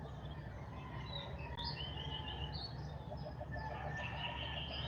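Faint outdoor birdsong, with several short chirps and calls scattered across a constant low rumble, distant and with no voices.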